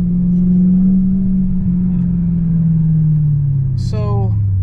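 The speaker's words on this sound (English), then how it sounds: "Let's go down a few gears." A BMW E92 M3 engine hums steadily, then the pitch drops as it slows through lower gears, ending with a short rising rev blip; a voice speaks briefly over it.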